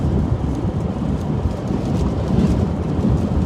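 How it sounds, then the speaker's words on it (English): Steady, heavy wind buffeting a microphone outdoors in Iowa under severe thunderstorm warnings, a continuous low roar with gusty fluctuations throughout and no voices. "It is definitely windy out here."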